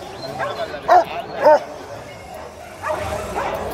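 Dogs at a Friday dog market: two sharp, close barks stand out over a steady hum of crowd noise, with people talking in the background.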